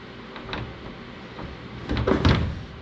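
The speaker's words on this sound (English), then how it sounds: "See if I can put the door back on one-handed." Fiberglass door being fitted onto a Ford Foxbody Mustang, with soft handling knocks early on, then a cluster of louder thunks and clunks near the end as the panel seats on its hinges.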